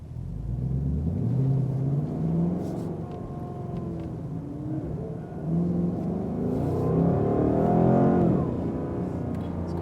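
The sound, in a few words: car engine on a hot lap with Max Verstappen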